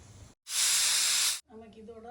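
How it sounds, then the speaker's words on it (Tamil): A pressure cooker on the stove cooking mushroom and potato salna releases one loud, close hiss of steam lasting about a second, cut off sharply, with a person speaking just before and after it. "நமக்கு இதோட 2 விசில் அடிச்சிருச்சு."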